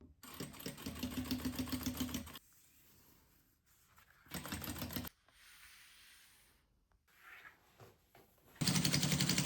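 A sewing machine runs in bursts while topstitching seam allowances on leather pieces placed right sides together. Its rapid, even whirring stitches stop and restart, with quiet handling noises in the pauses.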